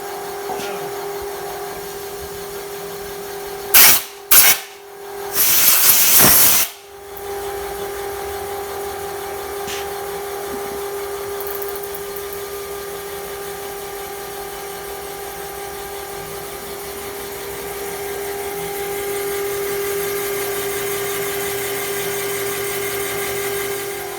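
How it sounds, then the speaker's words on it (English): A boring cutter machines the cylinder bore of a BMW M62 engine block, a steady loud tonal whine with a persistent hum, interrupted early by brief bursts of louder hissing noise. "So this cutter cuts the bore, and as it goes down in there, these cat paws, they go inside the bore"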